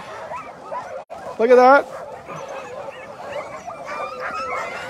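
A dog sled team of 12 dogs with a small drag sled at the start of the Knik 200 race, barking, yipping and whimpering excitedly in a brief loud burst, with people talking over the commotion.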